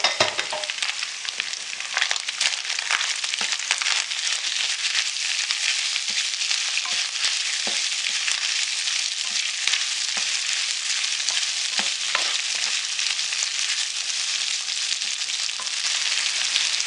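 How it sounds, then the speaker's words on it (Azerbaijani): Onions sizzling steadily in hot oil while being stirred, a dense continuous frying hiss with scattered crackles and soft scrapes throughout, close and alone with no voices. "Soğan içərisinə əlavə edib birlikdə qovururam, qızardıram yağda təqribən 3 dəqiqə."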